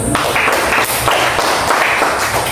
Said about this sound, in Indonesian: Kita beri aplaus dulu untuk teman Riki.